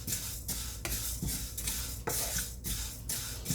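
Fenugreek seeds roasting in a pan, a steady dry rattling sizzle broken by regular scraping stirs about every half second, close and fairly loud, with no voices.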